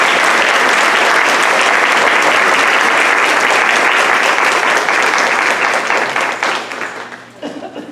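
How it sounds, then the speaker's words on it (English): An audience at a school event gives a big round of applause for kindergarten poetry students, loud sustained clapping with faint crowd murmur that tapers off and breaks into scattered claps and noise near the end. "let's have a big round of applause for our Old Mill Road kindergarten poetry"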